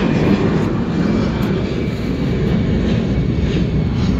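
Airplane passing overhead near an airport, a steady, loud broadband engine roar that holds constant throughout without pause, with no talking.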